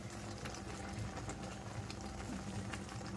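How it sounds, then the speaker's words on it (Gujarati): Water boils in a pot while lapsi is being cooked, giving a faint, steady bubbling hiss with scattered small pops and no talk over it. "આ પાણી ઉકળી જવા આવ્યું છે."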